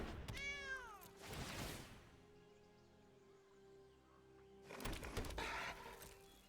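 Cats summoned by the Regal Caracal card in MTG Arena: a quick series of synthetic meows, then a soft game chime and tinkling effects, and after a short lull a second clatter of card sounds, close and clean.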